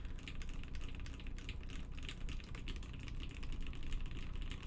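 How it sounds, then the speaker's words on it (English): Steady, quiet clacking of typing on a Doppelgänger Prototype custom mechanical keyboard, rapid keystrokes rattling along without pause and with no talking. "are you struggling to hear me talk now because I'm using the keyboard?"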